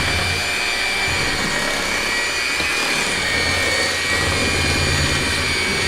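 An electric mixer beats lemon cupcake batter with a steady, loud, even whir that holds unchanged for several seconds.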